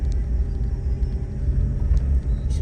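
Steady low engine rumble of a car driving along a road in Indonesia, heard from inside the vehicle, continuous with no talk.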